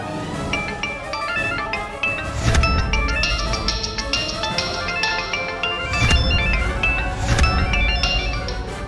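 A phone ringtone in a domestic scene from an Odia TV serial: a loud, continuous melodic ring repeating in a steady pattern, with no voices over it.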